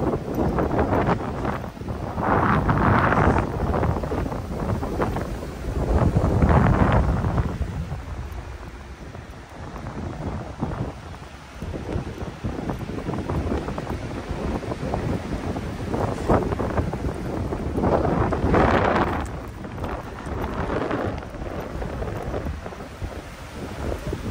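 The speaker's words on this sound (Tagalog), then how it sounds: "Lakas ng hangin." Strong, cold spring wind in New Zealand buffets the microphone in heavy, rumbling gusts that rise and fall throughout.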